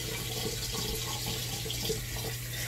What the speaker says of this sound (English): And I'm going to rinse my face.